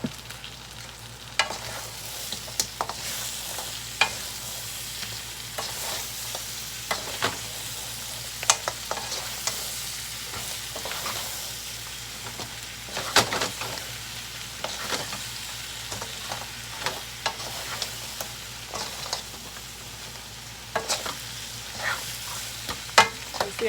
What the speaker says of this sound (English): So now we added the onion.